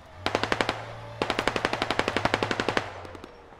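Two long bursts of rapid machine gun fire in the tactical shooter game Squad, evenly paced shots ringing out with a short pause between bursts and a few trailing pops.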